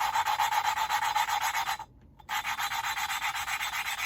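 An engine valve from a Kawasaki Z125 being lapped with paste: a steady rhythmic gritty rubbing, close and fairly quiet, with a brief pause partway through before the scraping resumes.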